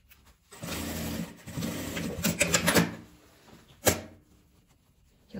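Sewing machine stitching together pieces of leftover fabric scraps for an organizer basket, with two steady runs of stitching followed by a short sharp clack and quieter handling.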